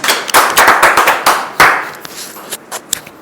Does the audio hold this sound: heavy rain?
no